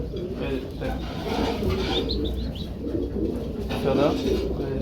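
A racer pigeon gives soft, low coos amid a busy, noisy background with faint murmuring voices.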